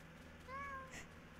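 A cat meowing up in a tree in the video game Wobbly Life, one short, faint, high mew heard alone.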